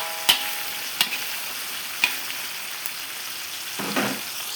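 Tomatoes with turmeric in a covered pan for a sundakkai dish, a soft steady sizzle under a few light clicks and knocks of a utensil or lid, close and without talk.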